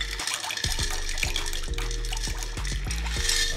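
Warm water pouring into a pot for pasta, a close, quiet trickle and splash broken by a series of hollow resonant clunks as the vessel shifts and fills.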